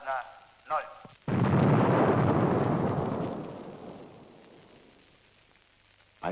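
Two short voice bursts, then a sudden deep roaring rumble swells and slowly fades over several seconds, an underground Soviet nuclear test explosion.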